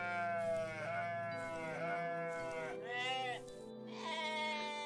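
Several drawn-out, wavering sheep bleats from the video game OneShot, each call loud and near with harmonic tones, repeating at roughly one-second intervals with no talk over them.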